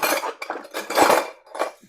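A hand rummages through a drawer of metal cutlery hunting for a teaspoon, producing several close bursts of jangling, clinking silverware separated by brief pauses.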